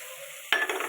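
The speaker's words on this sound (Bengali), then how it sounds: "মশলাটা দিয়ে ভালো করে নেড়ে নেব।" Masala spices for a home-style egg curry hit a pan of fried onions with a sudden loud sizzle, then a spoon scrapes and stirs them through the hot oil in short bursts; no one speaks.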